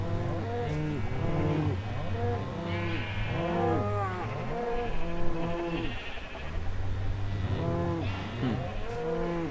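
Several cows on a video game farm moo in overlapping drawn-out calls, one after another in a loud, close, busy chorus with no pause across the stretch.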